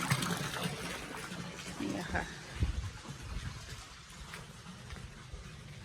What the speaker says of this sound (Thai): น้ำก็เลยไหลดีมากไหลแรงมากเลยค่ะ